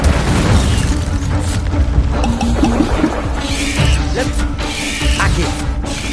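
An Incendio fire spell blasts in the video game Hogwarts Legacy as a loud, dense whoosh and rumble with booming crackle, sustained for several seconds amid game effects and mechanical clatter.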